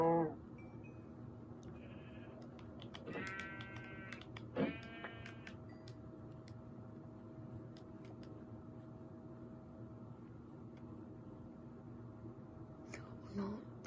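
Blocky Minecraft sheep give a few short, faint bleats over a steady low game hum, the calls clustered early and then fading into background noise.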